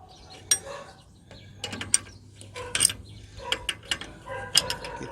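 Rough old spanner clinking and ratcheting on air brake fittings of a GAZ-66 truck, a run of sharp, close metallic clicks and taps scattered irregularly over a low background hum.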